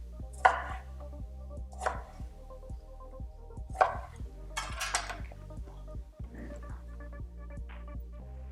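A knife chops food on a cutting board while meatloaf ingredients are prepared, with a steady series of sharp, close taps repeating at a regular rhythm over a low background hum.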